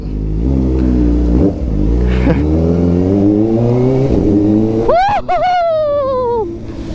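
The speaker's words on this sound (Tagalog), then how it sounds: "Ang ingay ng cold start." A Kawasaki Ninja ZX-4RR motorcycle engine fires up from cold, loud and rough, idling unevenly, then revs sharply twice near the end with a rising, high-pitched whine.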